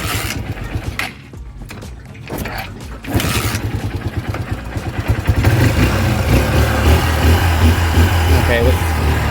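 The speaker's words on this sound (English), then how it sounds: "I gotta kickstart it because it's already out." Motorcycle with a flat battery kickstarted by foot: a few thumping kicks, then the engine catches and settles into a loud, close, steady idle, with a voice talking over it.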